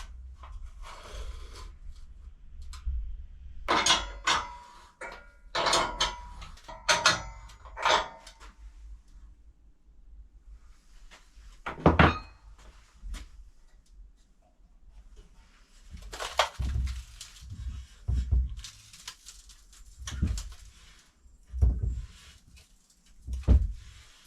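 Homemade welded sheet metal brake being worked, giving scattered loud metallic clanks and thuds in irregular bursts with quieter stretches between.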